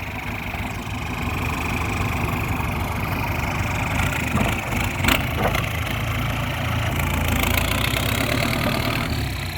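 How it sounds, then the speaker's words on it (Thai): Kubota tractor fitted with a D-MAX turbo, pushing soil: a steady, loud engine drone with a rough low rumble and a rising turbo whine, plus a brief sharper burst near the middle, no talk. "เสียงเทอร์โบหวานมากครับ"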